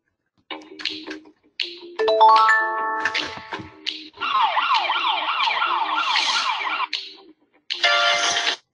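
A small mTiny coding robot plays an electronic police siren tone through its speaker, a clear, near wailing and sweeping melody that rises and falls in several bursts separated by short silences.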